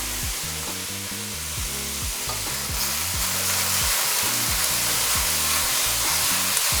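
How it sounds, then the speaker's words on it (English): Minced meat sizzles and fries steadily in a very hot pan over high heat while it browns, a loud, continuous crackling hiss with no talk. "So if you hear sizzling, which you still hear, this is good because it's sauteing, no? You're searing it."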